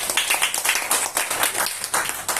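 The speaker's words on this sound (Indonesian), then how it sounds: "Tepuk tangan untuk beliau." A church congregation claps steadily for a couple of seconds, brisk applause with no voices over it.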